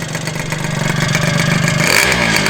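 A rebuilt 120cc stroker Honda DIO Elite scooter engine revs up close, its buzzing note climbing steadily in pitch and loudness over a couple of seconds.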